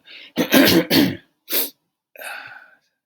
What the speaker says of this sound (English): Sorry about that. I had to clear my throat.